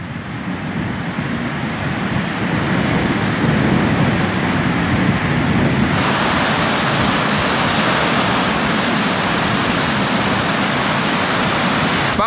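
Steady broadband roar of beach surf at Necochea, Buenos Aires, Argentina, loud and continuous with wind mixed in, no distinct wave breaks, brightening partway through.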